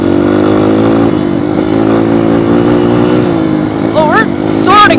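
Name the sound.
dirt bike engine revving at high RPM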